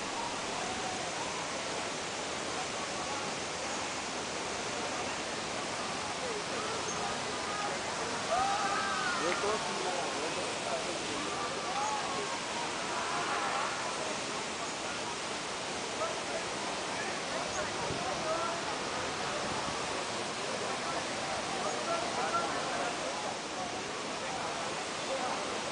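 The Abade waterfall in Pirenópolis roars with a constant, dense rushing wash for the whole stretch, with voices of a crowd faintly mixed in beneath the falling water.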